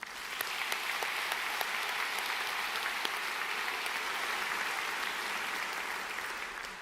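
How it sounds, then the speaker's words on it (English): A room full of people claps steadily for several seconds, a dense, even patter of applause at moderate distance. "It's worth a round of applause."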